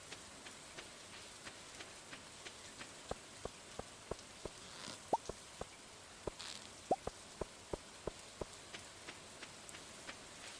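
Rain in the Stardew Valley farming game, faint steady patter with regularly spaced soft drip ticks throughout, no voices.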